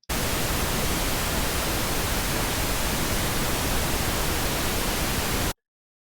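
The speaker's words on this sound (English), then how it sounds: "If we go to pink noise and listen to that" Steady broadband pink noise test signal, a dense even hiss running loud and unbroken for about five and a half seconds before cutting off abruptly.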